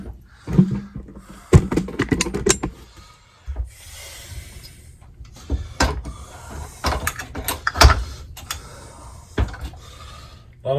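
Homelite Super XL Auto chainsaw being clamped in a vise in a workshop during a crankshaft bearing repair, with clunks, metallic rattles and ratcheting clicks of handling and tightening, loud and close.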